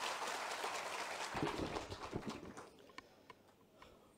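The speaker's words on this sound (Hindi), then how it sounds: "जोरदार तालियों के साथ स्वागत" Faint, distant applause rises from the audience at a BJP gathering in Hatpipliya welcoming state president VD Sharma. The steady wash of clapping thins into scattered claps as it fades.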